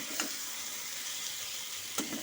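Fried potato and cauliflower pieces sizzle softly as they are stirred into a cooked spice paste for a vegetarian Bengali cauliflower muri ghonto. A quiet, steady frying hiss is broken by two brief scraping stirs near the start and end.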